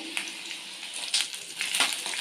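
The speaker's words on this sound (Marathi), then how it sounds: "लसूण व्यवस्थित तेलात भाजून घ्यायचं सोनेरी रंगावर लसूण भाजायचा" Garlic frying in oil, a steady sizzle with crackling pops and a few louder bursts, close by and continuous, no voices.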